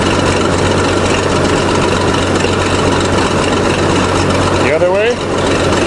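A 1953 International bulldozer engine idles steadily and loudly with heavy low rumble while the hydraulic blade tilt is worked; a person speaks briefly near the end over the engine.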